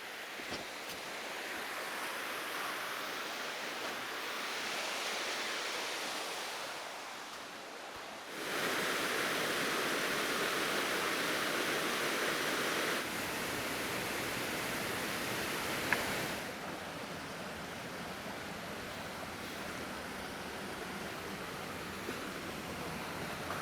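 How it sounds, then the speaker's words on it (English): A creek rushes near a waterfall in the woods beside Lake Superior, a steady broadband hiss of flowing water that swells and shifts in loudness as the listener moves, with no talk. "I hear a creek."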